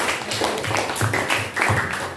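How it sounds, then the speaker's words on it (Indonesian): Classroom audience clapping hands during an Islamic religious education lesson, a short burst of rhythmic group claps in fairly close, quick pulses. "Tepuk tangan untuk kita semua."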